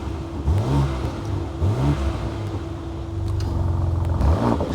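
A BMW M3 G81 wagon tuned by Dähler with remote-controlled exhaust valves revs in repeated sharp blips, engine pitch sweeping up and falling back, then holds a steady burbling idle before another rev.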